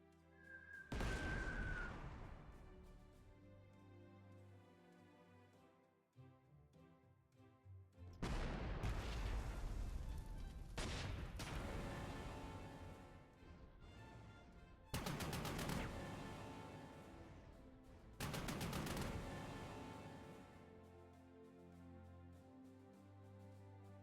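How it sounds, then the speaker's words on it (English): Bombs explode in the Panzer Corps 2 wargame: four loud, separate bursts of blasts and rattling fire, each decaying into a rumbling tail between quieter gaps. "Some bombs on this one for sure."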